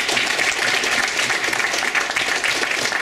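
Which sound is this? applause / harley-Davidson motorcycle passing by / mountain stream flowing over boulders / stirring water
applause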